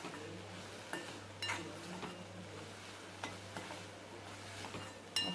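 Franky filling being mixed in a pan, spiced with pav bhaji masala, with scattered clinks and scrapes of a utensil against the pan over a low steady hum, no talking.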